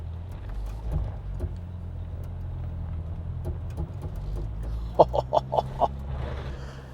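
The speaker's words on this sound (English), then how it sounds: "Just constant throttle. Here we go, low range active." A GWM Cannon Alpha PHEV climbs a hill off-road in low range with no diff locks, giving a steady low rumble throughout. A quick run of short, sharp squeaks rises above it near the end.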